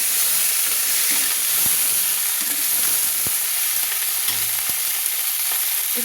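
Winter vegetables for vegetarian khichuri stirred in a hot pot, giving a steady, loud sizzling hiss broken by a few soft knocks and scrapes of the spoon, with no talking.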